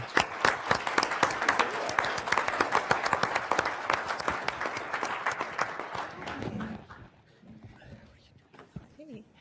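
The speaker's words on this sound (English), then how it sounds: "everybody applauded just in time for Natalie's grand entrance" An audience applauds with dense, loud, rapid clapping that carries on for several seconds and then thins out, followed by a few quiet voices talking.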